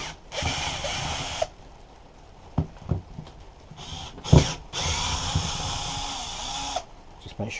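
A power screwdriver or drill whirs in several bursts while undoing screws from the casing of an electric hedge trimmer being taken apart for rewiring, close up, with brief clicks and handling knocks between runs and some talk.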